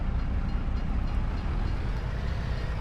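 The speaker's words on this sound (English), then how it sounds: "Oh, see, here comes the train." A train passes in Farming Simulator 22 with a steady, loud, continuous rumble of rolling wagons that holds evenly throughout, with no talking over it.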